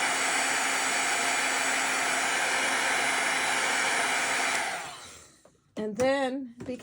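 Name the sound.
heat tool drying fabric paint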